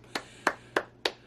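Four sharp hand claps ring out alone at an even, unhurried pace, each a crisp, fairly quiet snap with a short decay in a small room.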